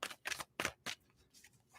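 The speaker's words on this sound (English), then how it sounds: "All right, 2 shuffles." A deck of tarot cards is shuffled close by, giving a few quick, crisp riffling bursts. The sound is faint and comes in short separate flurries.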